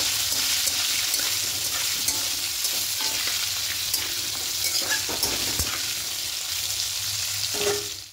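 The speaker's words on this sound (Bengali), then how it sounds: "এবার পটলগুলোকে খুব ভালো করে ভেজে নেব" Steady oil sizzle of salted, turmeric-coated pointed gourd frying in a pan, with occasional stirring scrapes and clicks throughout, close and fairly loud.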